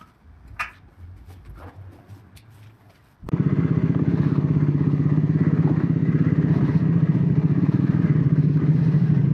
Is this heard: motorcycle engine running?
yes